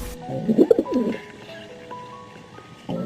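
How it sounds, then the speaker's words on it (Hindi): Pigeons coo nearby in soft, throaty bursts, a cluster early on then a brief coo at the end, with faint background noise. "वो कबूतर गुटरगू कर रहे थे।"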